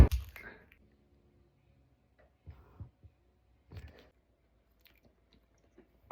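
Soft, close chewing and squishing on a frozen honey jelly comes in a few sparse bites separated by near silence, the first bite loudest.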